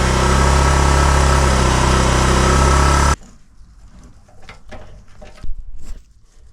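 A Yamaha Van Van 125 motorcycle engine, restarted after twenty years unused, roars loud and steady close by, then cuts off abruptly, leaving quiet handling knocks and rustles.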